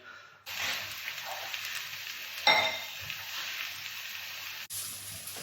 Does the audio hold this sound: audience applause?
no